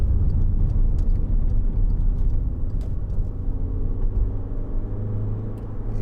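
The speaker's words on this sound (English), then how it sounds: "It is a very nippy engine, quite a big car, four-wheel drive" A 2012 Skoda Yeti 2.0 TDI, a large four-wheel-drive diesel car, driving at speed with a steady low engine and road rumble heard from inside the cabin, continuous and without talk.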